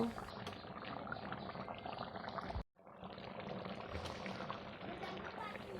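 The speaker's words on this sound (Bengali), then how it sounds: "তরকারিতে বলক উঠে গিয়েছে" A pot of pointed gourd dolma curry bubbles at a steady boil, a continuous close simmering hiss with a brief hush midway before the bubbling resumes.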